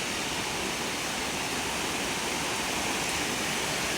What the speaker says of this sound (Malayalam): ബാക്കിൽ കുറച്ച് വെള്ളം ചാടുന്ന സൗണ്ട് കേൾക്കുന്നുണ്ട്